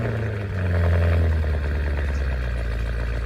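Cadillac Escalade V SUV engine in the Driving Empire game, starting up and settling into a deep, steady idle rumble with a slight surge near the start, loud and close with no talking.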